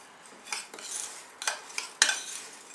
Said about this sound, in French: Tout simplement, on va mélanger.